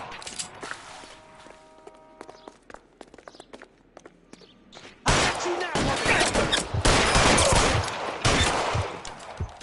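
Suppressive gunfire in L.A. Noire: sparse clicks and footsteps at first, then a sudden loud, dense burst of rapid gunshots and overlapping fusillade continues for several seconds, close and intense.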